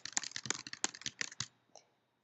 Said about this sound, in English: Let me just type in inquiry into my Mac.